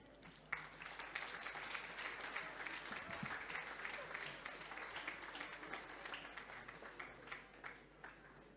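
Sustained applause from a large audience at the opening ceremony of the BIIG 2017 games in Barbados, dense steady clapping lasting several seconds with occasional sharper claps rising above the crowd.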